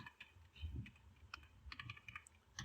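Typing on a computer keyboard while writing text in Microsoft Word: a quiet, irregular run of light key clicks and taps, close and faint, with no talking.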